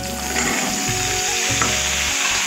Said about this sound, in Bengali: তো এখানে আমি ঝিঙে আলুর তরকারি করছি